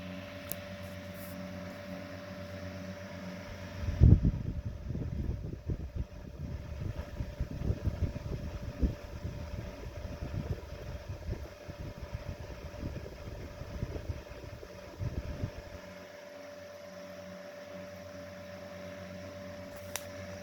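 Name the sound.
restored 1920s GE 8 inch desk fan running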